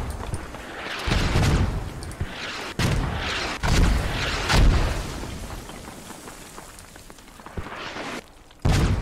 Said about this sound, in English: I think those mortars trying to catch me.